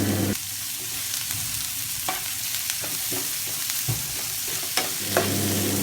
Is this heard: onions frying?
yes